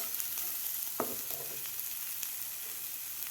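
Safflower greens with crushed peanuts stirred in a pan for a dry sabzi, giving a soft continuous sizzle with a brief scraping stir near the middle, close and fairly quiet, no talking.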